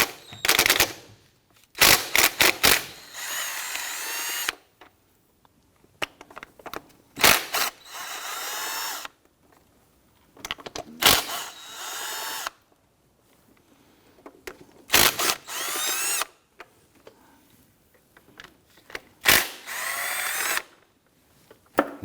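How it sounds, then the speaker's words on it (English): A power tool, likely an impact driver or drill, runs in repeated loud whirring bursts with pauses between them while removing 12mm bolts and nuts from the intake of a 2017-2020 Hyundai Elantra 2.0L four-cylinder engine. "We're now going to go ahead and remove the 3 12mm bolts and the 2 12mm nuts on our intake."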